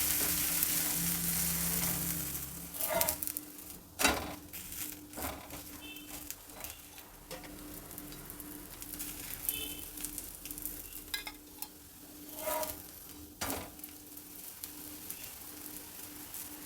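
Pea masala roti cooks in a little oil on a tawa, a soft steady sizzle close by, broken by scattered clicks, scrapes and rustles as it is handled and turned.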